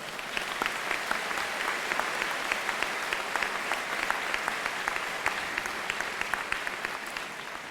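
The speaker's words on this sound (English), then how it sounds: "Please give her one more round of applause." Steady applause from a crowd at a college commencement ceremony, many hands clapping in a dense, even wash with a few sharper claps standing out, continuing without pause and with no speech on top.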